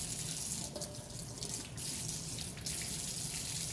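Tap water runs steadily through the sections of a Tenkara fishing rod as it is rinsed at a sink, a close, continuous rushing splash that shifts slightly in tone, with no talk.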